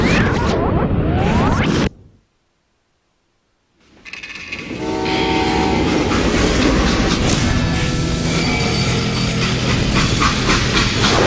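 A train runs in the Wild West game Call of Juarez Gunslinger, a loud steady rumble with rhythmic clatter. It cuts to near silence for about two seconds, then builds back up to a dense continuous roar.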